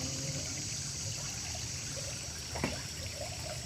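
River water trickling along a hiking trail, a soft continuous flowing hiss at a distance, with one brief knock partway through and no voices.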